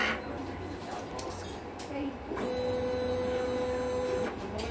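A printer runs a head clean cycle with a steady mechanical whir and motor hum, switching to a higher sustained whine partway through before easing off, heard close up.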